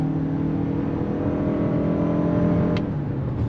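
A 2024 Toyota RAV4 Woodland Edition SUV accelerating under throttle, heard from inside as a steady, loud engine drone with a rising hum and road noise, no talk.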